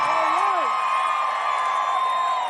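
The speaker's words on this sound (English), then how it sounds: "they called Ron DeSantis up on the stage, and the crowd, they exploded" A large crowd at a Florida fundraising event erupts as Governor Ron DeSantis is called to the stage, a loud sustained roar of cheering and whooping with a rising shout near the start.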